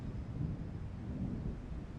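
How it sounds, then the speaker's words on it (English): A deep, continuous rumble of thunder rolls on steadily for a couple of seconds, with a low wind-like roar underneath and no voices. "Sounds like there's a storm coming."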